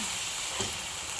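Fritter batter frying in butter in a frying pan gives a steady, close sizzle and hiss throughout, with a faint soft tap partway through.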